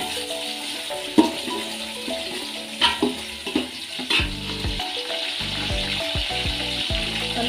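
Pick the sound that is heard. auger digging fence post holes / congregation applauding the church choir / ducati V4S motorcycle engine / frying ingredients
frying ingredients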